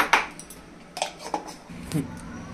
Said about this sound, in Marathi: चला, आता आपण पीठ फेटून घेऊया